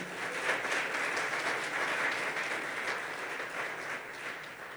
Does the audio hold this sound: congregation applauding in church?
yes